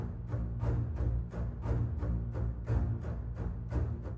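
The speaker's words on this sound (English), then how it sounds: "I want the double bass to only play the beats" MIDI double bass playing only on the beats, a run of about a dozen evenly spaced plucked low notes in a steady pulse, each decaying briefly before the next, with no voices.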